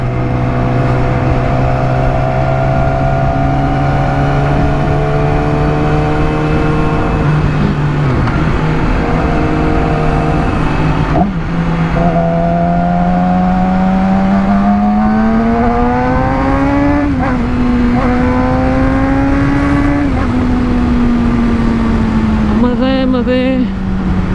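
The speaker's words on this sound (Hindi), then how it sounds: "ये विंटर की बाइक है, विंटर से मुराद ये कि 600 सीसी है, ऊपर से 4 सिलेंडर है" A Yamaha R6, a 600cc four-cylinder motorcycle, is ridden with a loud, close engine whine whose pitch climbs and falls through gear changes. It ends with a few quick revs, and someone talks over it.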